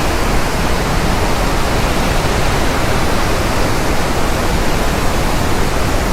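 Hogenakkal Falls pours down in a loud, unbroken roar of rushing water, dense and steady throughout with no voices.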